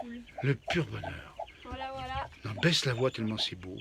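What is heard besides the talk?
Faverolles chickens clucking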